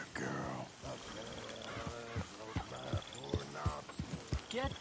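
Rhythmic hoofbeats clip-clopping in the video game Red Dead Redemption II over layered game audio, with voices talking and a horse snorting nearby.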